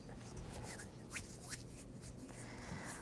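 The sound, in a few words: shuffling tarot cards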